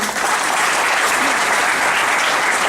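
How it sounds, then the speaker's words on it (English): An audience claps loudly for a student selected in campus placement, a dense continuous burst of applause that holds steady throughout. "So first we have to clap for him,"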